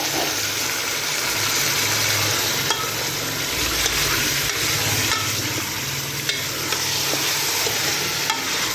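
Beef pieces fry loudly in a pot with onion, garlic, ginger and whole spices, giving a dense, continuous sizzle with occasional scraping stirs, no voices.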